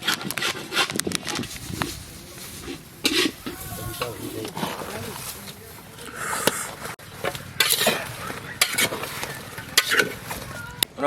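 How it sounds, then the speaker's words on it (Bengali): Rohu fish fries lightly in a pan for a village-style Bengali dish, a soft sizzle under clinks and scrapes of utensils against the pan, with a person talking over it. "আমরা মাছটাকে হালকা করে একটু ভেজে নেব।"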